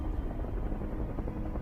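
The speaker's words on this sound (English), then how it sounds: "It's a chopper." A helicopter passes overhead: a steady, low rumbling drone with a dense beat that holds at the same loudness throughout, fairly distant and with no voices over it.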